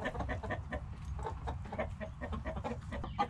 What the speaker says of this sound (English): We got chickens for eggs.